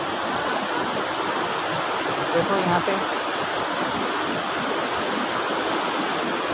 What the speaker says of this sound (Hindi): ये घोघड़ मंदिर का नदी है, आप लोग देख सकते हो।